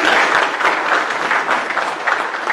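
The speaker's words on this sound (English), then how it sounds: "Let's give a round of applause" An audience at a local security talk gives a round of applause, a steady, fairly close patter of many hands clapping without break.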